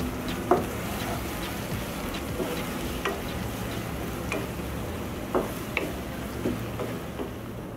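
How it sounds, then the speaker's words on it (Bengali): Onion frying in a pan while noodles are cooked, a low steady sizzle carrying on throughout with scattered light clicks and ticks of stirring above it. "পেঁয়াজটা আমি হালকা লাল লাল করে ভেজে নেব"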